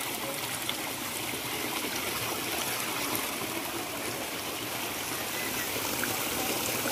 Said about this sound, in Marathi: हे बघा इथे पाणी वाहतंय